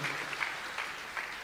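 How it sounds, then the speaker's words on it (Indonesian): Congregation clapping during a church service, a soft, even wash of many hands heard from a distance for a moment, with no voices over it. "Sekali lagi tepuk tangan yang paling meriah buat Tuhan"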